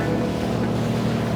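A Stingray JST-30 sportender boat runs across a choppy sea, its engine a steady low drone mixed with wind buffeting the microphone and water rushing against the hull, loud and continuous throughout.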